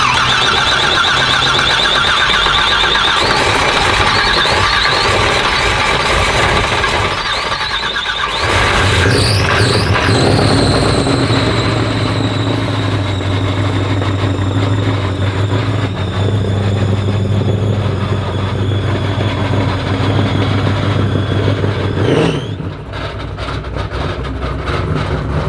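A turbocharged Corvette revs hard in a parking lot, producing a loud, sustained screaming whine whose pitch rises and shifts across the run, with no talking.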